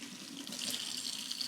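Hot water runs steadily from a household tap after a water heater overpressure valve test, a soft continuous hiss and splash heard fairly quietly with no talk.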